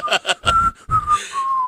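A person whistles a short, wavering tune in imitation of a story character, with a few breathy, uneven notes close to the microphone.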